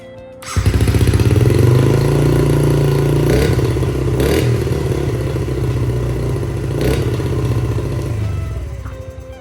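A Yamaha TTR 50 dirt bike with a newly replaced starter catches and runs loud and close, its small engine revving then settling into a rattling idle with a few clattery surges.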